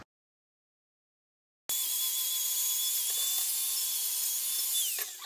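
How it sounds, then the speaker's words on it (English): An angle grinder starts abruptly after silence and runs at a steady high-pitched whine in a garage workshop while parts of a 1967 Mustang clutch pedal assembly are modified, loud and close with brief contact scrapes near the end. "So that's just the angle grinder there."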